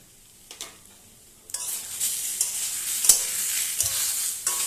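Ginger paste and cumin powder frying in a pan for a prawn and elephant-foot-yam curry, starting with a quiet pan and a couple of knocks before a strong, bright sizzle builds under steady stirring scrapes.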